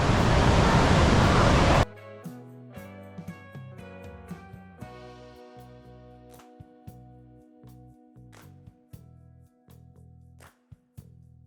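The indoor waterfall at Jewel, Changi Airport in Singapore roars as a loud, dense rush of water for about two seconds, then cuts away to soft tonal music with light taps.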